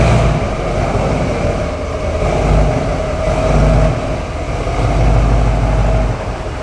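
A truck is driven into a car detailing shop, its engine a loud, continuous low rumble that swells and eases in several waves.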